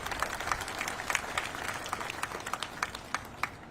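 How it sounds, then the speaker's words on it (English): Scattered clapping from an audience at a Houston ceremony for National Vietnam War Veterans Day, moderate and uneven with individual claps standing out over a low background murmur. "Yes, please clap for that."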